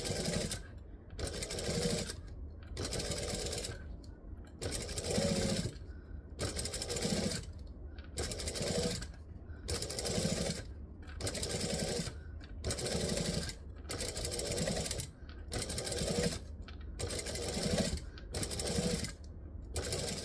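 A sewing machine runs in repeated bursts of rapid mechanical stitching, about a second each with short pauses between, loud and close with no talking.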